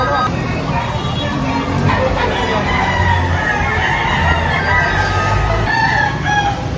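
A rooster crows outdoors at a fowl market over steady background noise, with other fowl clucking and a dog barking briefly in the distance.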